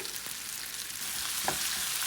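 Tempering of tomato and sambar powder frying in a pan gives a steady, dense sizzle, close and even, with a faint stirring clink partway through.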